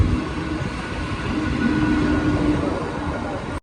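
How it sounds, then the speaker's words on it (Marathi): A train to Palghar rumbles along with a steady low roar and faint rail hum, heard from inside or close by, with no talking. "आता मी ट्रेन पकडतो बारावीची आणि जातो पालघरला"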